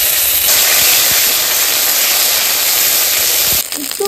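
Ginger and green chili paste hits hot oil already tempered with bay leaf and black cumin, letting out a loud, continuous hiss of sizzling that holds steady and then drops off abruptly near the end.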